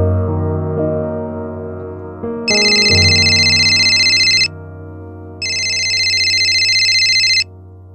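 Phone ringtone for an incoming call, loud and close, a steady tonal melody joined by two long bright ringing bursts separated by a short pause.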